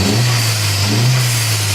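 An MK4 Jetta engine with an aftermarket diverter valve revs steadily in a short, loud burst, a low droning engine note swelling slightly and settling, heard close up with no talking.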